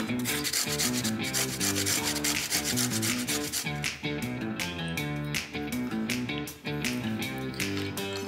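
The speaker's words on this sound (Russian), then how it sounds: "На крупной терке или шинковке натираю очищенную морковь." A peeled carrot is rubbed on a coarse grater in rapid, steady rasping strokes, close and continuous throughout with no talking.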